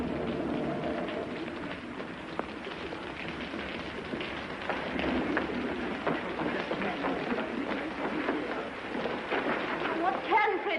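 Steady rain pours down during a storm on a busy theatre-district street at night, a continuous broad hiss lasting throughout, with traffic and crowd noise mixed beneath.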